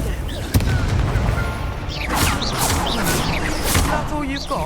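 Confringo fire spell explosions in Hogwarts Legacy: a sharp blast followed by booming impacts and crackling bursts, loud and close, under a mix of game voices and effects.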